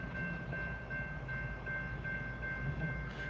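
Train rolling along a railroad track: a faint, steady low rumble with a thin sustained tone above it, heard from a distance without talk.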